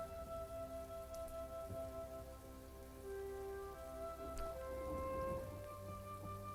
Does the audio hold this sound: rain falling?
yes